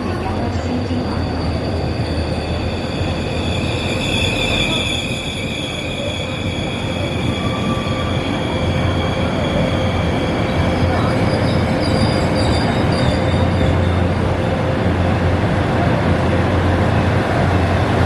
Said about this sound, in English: The Mugunghwa train, number 1561, departing for Iksan at 1426 is bound